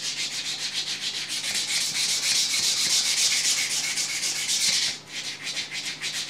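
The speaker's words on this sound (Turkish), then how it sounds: "Tamamen zımparayı kullanıyorum arkadaşlar, görebilirsiniz." A rusted steel knife blade being sanded with sandpaper, giving a steady, close, loud abrasive rubbing in quick back-and-forth strokes that pauses briefly near the end, then resumes.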